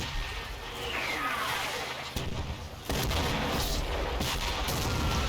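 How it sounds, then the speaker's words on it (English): Accurate American mortar fire lands in a Combat Mission battle, heavy booming explosions with a sharp crack near two and three seconds over continuous rumbling battlefield noise. "some very accurate American mortar fire"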